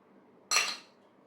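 One sharp clink of a serving utensil against a plate while kumro bharta, a Bengali pumpkin mash, is dished out, with a short ringing decay and quiet around it.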